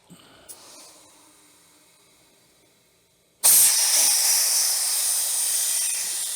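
Air rushes loudly and steadily into a rear tire on a Yamaha TT-R110 dirt bike, a sudden strong hiss that starts after a few quiet seconds of faint handling.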